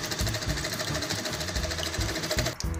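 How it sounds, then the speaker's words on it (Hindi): Close and steady, a sewing machine stitches fabric for a small handmade flower, its rapid mechanical chatter running continuously before a brief stop near the end. "अब हम सिलाई करेंगे।"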